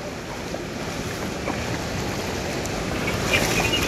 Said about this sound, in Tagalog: Hinahampas ng alon, kabayan.